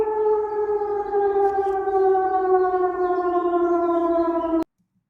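A civil defense siren wails outdoors in Denmark, a loud, steady rising-and-falling tone with layered harmonics that holds for about four and a half seconds before cutting off abruptly into silence.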